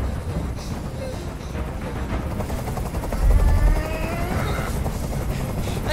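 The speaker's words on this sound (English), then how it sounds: "I can't stand that noise anymore. Tell that helicopter to get out of here." A steady low helicopter rotor drone throbs continuously in the video game Detroit: Become Human, swelling briefly louder midway, with muffled voices faintly underneath.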